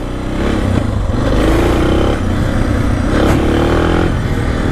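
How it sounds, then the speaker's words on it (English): A motorcycle revs hard in first gear as it throttles out into a wheelie. The engine rises and falls loudly in rising surges, with some mechanical clatter. "So first gear will throttle out into a wheelie."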